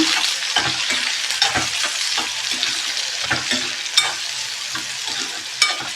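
Finely chopped medium onion and garlic sauté in a pan for vegetable masala pasta, giving a steady close sizzle broken by repeated scraping stir strokes, with no talking.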